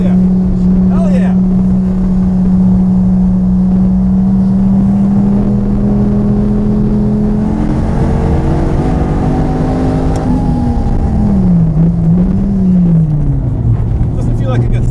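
A 2013 SRT Viper sports car driving hard on a race track, its engine a loud steady drone heard from inside that rises and falls as it shifts and revs, with a voice speaking over it.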